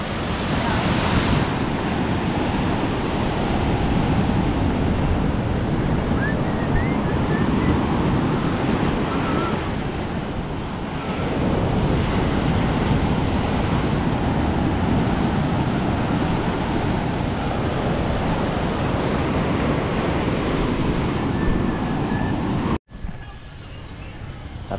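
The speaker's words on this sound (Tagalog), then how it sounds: "Akala ko maliliit ang alon, lalaki pala." Large ocean waves and surf pound around a small wooden outrigger boat (bangka) caught in a storm at sea, a loud, continuous roar mixed with heavy wind buffeting the microphone, cutting off abruptly near the end.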